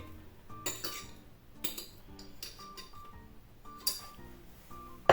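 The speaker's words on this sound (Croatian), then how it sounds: "I mutiti dok se smjesa ne sjedini." Softened margarine or butter gets whisked into a chocolate filling for a no-bake banana chocolate cake, with clinking taps of metal against a bowl coming in irregular bursts, close and fairly quiet.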